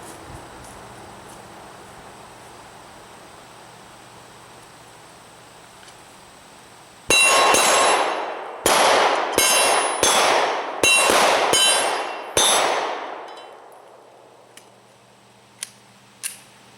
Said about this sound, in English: you've got some reactive targets that give you a sense of immediate sense of satisfaction for actually hitting the target